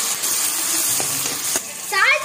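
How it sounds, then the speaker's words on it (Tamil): Tomatoes sauté in a pan for a Tamil crab fry, a close, steady sizzle with light stirring, and a voice breaks in briefly near the end. "இப்போ தக்காளி ஆட் பண்ணிக்கோங்க"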